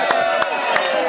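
A group of about 40 to 50 people at an Armstrong hunt camp cheer and clap in a short, loud burst of crowd noise, with sharp claps scattered through it.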